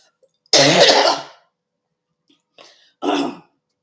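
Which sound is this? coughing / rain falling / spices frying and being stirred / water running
coughing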